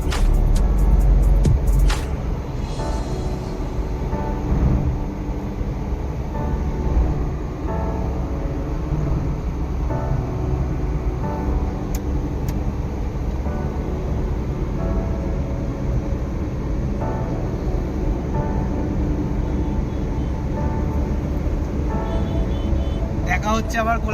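A car cruising along the Kalyani Expressway gives off a steady low road and engine rumble with tyre noise. It runs evenly throughout, with a brief louder burst at the start, and there is no talk.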